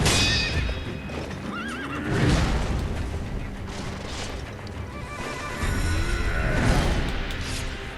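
Horse neighing and whinnying in the video game Sekiro: Shadows Die Twice, two loud wavering whinnies about four seconds apart, with hoof clops and heavy impact booms mixed in close up.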